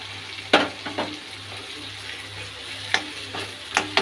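Grated garlic goes into a pan of browned chicken pieces, giving a low steady sizzle broken by a few sharp stirring scrapes and clinks; a constant low hum runs underneath and nobody speaks.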